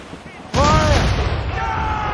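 Naval cannon fire from a ship in Assassin's Creed Rogue erupts as one loud broadband boom with a rumbling, sustained roar after a brief quiet lead-in, joined by shouted voices.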